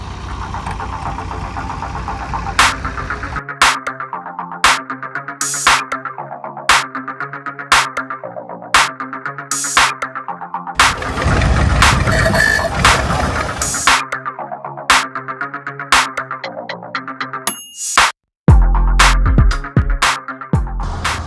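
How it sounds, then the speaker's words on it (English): Antique tractors chug past in a parade at a folklife festival in Georgia, a slow, regular knocking rhythm, loud and close, with a burst of rougher engine noise midway. "Here comes the antique tractor parade."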